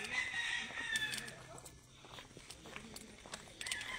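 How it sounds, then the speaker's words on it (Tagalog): Chickens on a farm, with faint clucking and a short crow-like call against a soft outdoor background, alongside light footsteps and some distant voices. "May manok dari"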